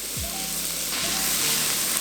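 Butter and onion sizzle steadily in a frying pan, making a close, continuous hiss and crackle that stays even throughout, with no voices.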